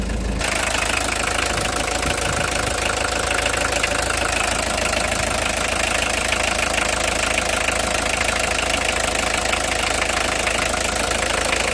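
A Volkswagen Combi T3 van engine runs at a steady idle, close and loud, with a continuous low rumble and a faint knocking texture and no voices.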